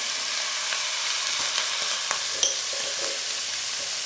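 Mixed vegetables stir-fried in a pan for Singaporean rice as soy sauce and vinegar go in: a steady, close sizzle with scattered stirring scrapes and clicks, no talking.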